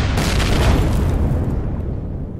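Spaceship thrusters blow up as they are destroyed in the video game Empyrion, a loud sustained rumbling explosion with a sharp onset that slowly fades over a couple of seconds, with no talking.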